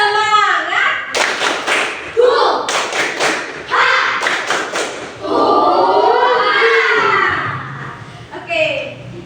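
Classroom of children doing tepuk semangat, a rhythmic spirit clap with bursts of sharp group claps in patterned beats, broken by chanting voices and a teacher's speech.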